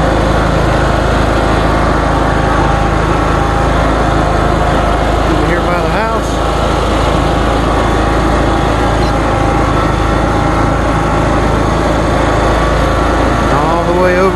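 Lawn mower running steadily while cutting a yard, a loud, constant close engine drone that stays unbroken from start to finish.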